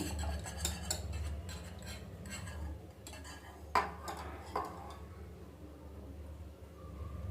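Eggs mixed in a bowl for an omelette, a run of quick light taps and scraping clinks from a utensil against the bowl, with a couple of sharper knocks, close and fairly quiet.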